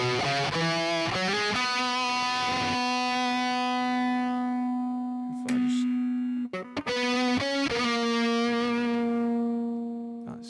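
Electric guitar through the Line 6 Helix Native US Double Norm amp preset, a few picked notes followed by long sustained ringing chords, with one restrum partway through, clean and close with no talk.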